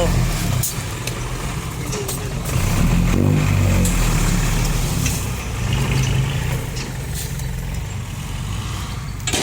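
A heavy farm tractor engine rumbles and revs nearby, rising in the middle, with people talking over the low mechanical drone.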